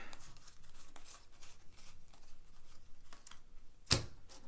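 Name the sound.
shuffling and flipping Star Wars Imperial Assault game cards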